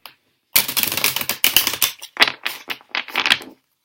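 A deck of reading cards is shuffled three times in a row, each pass a dense burst of crisp flapping riffle clicks, close and fairly loud with brief pauses between bursts.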